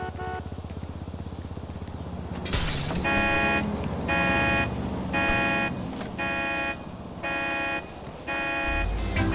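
A car in the video game GTA Online, heard as a steady engine drone with bursts of a repeating tonal alarm-like horn pattern, fairly loud and close, with no talking.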